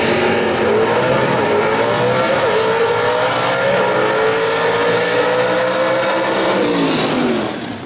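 Gasser drag race cars roar down the strip, a loud engine howl with rising and falling pitch sweeps, sustained for several seconds before fading slightly at the end, no talk.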